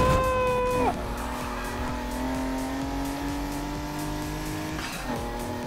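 Race car engines in the video game Need for Speed Heat scream near redline, a loud sustained whine that drops pitch sharply about a second in, holds steady, then dips and climbs again near the end.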